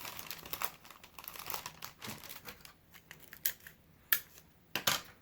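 Wrapping paper folded around a partly flat, partly box-shaped gift, close crisp crinkles and rustles in uneven bursts, with a few sharper creases toward the end and no voices.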